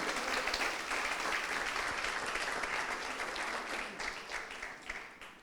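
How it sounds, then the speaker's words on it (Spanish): A church congregation applauds the name of the Lord, steady dense clapping that fills the whole stretch and fades slightly near the end. "¿Cuántos aplauden el nombre del Señor?"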